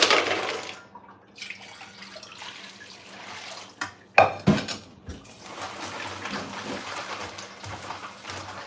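Washed nuts rinsed in water in a cooking pot: running water and sloshing, then a few clanks of the pot and utensils, close and moderately loud, followed by softer continuing swishing; no voices.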